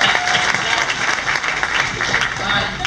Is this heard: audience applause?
yes